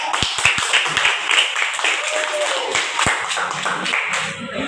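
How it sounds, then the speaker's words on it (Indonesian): Classmates in a school classroom clap for a fellow student, a loose burst of sharp individual claps and patter at close range, with faint voices murmuring underneath. "Kasih aplaus buat kawannya deh"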